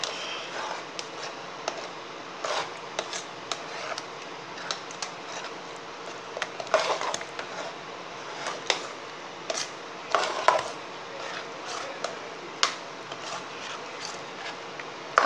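A spoon stirs ragi flour porridge (koozh) in a pot, with soft scraping and scattered clicking taps against the pot over a steady low background hum.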